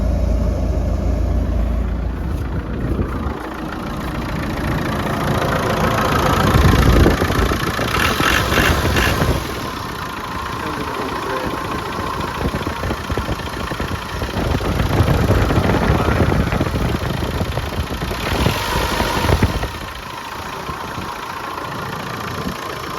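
A 1995 Land Rover Defender 110 with the 300Tdi diesel engine idles steadily and loud for the whole stretch, a low rumbling drone with slight swells in level and no voices.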